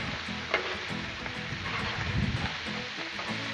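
Big chunks of chopped bacon fry on a Blackstone griddle with a steady, dense sizzle. A metal spatula scrapes and clacks against the flat-top now and then as the pieces are slid together.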